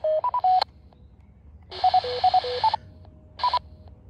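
Short bursts of beeping tones in quick stepped sequences from a fox hunt transmitter come through a ham radio receiver, with hissy gaps and quiet static between the bursts.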